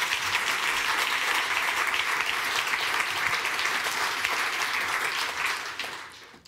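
Sustained applause fills the hall at a science communication award ceremony, a thick, even roar of many hands clapping that fades out at the very end.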